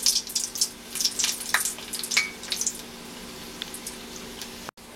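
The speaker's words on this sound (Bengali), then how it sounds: "মিষ্টিগুলোকে অনেকটা সময় নিয়ে আস্তে আস্তে করে ভাজতে হবে" Gulab jamun sweets fry slowly in oil with a soft, steady sizzle and scattered crackling pops throughout, close and alone with no voices.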